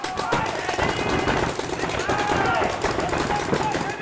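Paintball markers fire rapidly in a xball lite league match, dense repeated pops blending into a continuous crackle over crowd noise and commentary.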